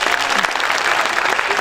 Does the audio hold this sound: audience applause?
yes